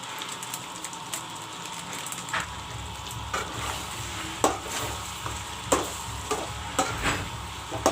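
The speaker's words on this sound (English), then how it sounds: "Friends, the masala and the chicken is fried up nicely." Chicken sizzling in a hot pan while a utensil scrapes and stirs, with several sharp clanks against the metal over continuous frying noise.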